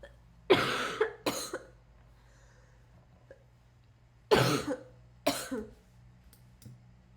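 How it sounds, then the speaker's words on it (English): Two separate bouts of coughing from one person, each a pair of harsh, close coughs, with a quiet pause between them over a low steady hum. "Sorry about my cough."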